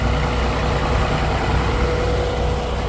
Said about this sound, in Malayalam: എൻജിൻ വരുന്നത് കേട്ടോ. ഇതാണ് എൻജിൻ റൂം.